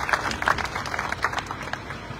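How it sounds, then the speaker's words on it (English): An audience at the Main Street Market groundbreaking in Milford, Nebraska, gives a short round of applause for the Von Trigger family, scattered moderate clapping from a modest crowd. "Let's give another round of applause for the Von Trigger family real quick."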